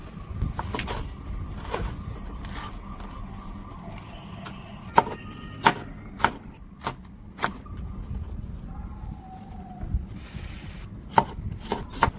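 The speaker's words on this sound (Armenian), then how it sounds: "Բոլոր պարագաները կտրատում ենք խոշոր։" A knife coarsely chops vegetables on a board for a summer pesto salad, sharp irregular close strokes with pauses between bursts, set against a quiet background.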